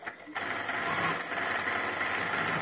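A Kingtex KLD 8520M domestic sewing machine runs steadily through a decorative stitch, its fast needle whir loud, close and continuous, with a slight mechanical shift partway through.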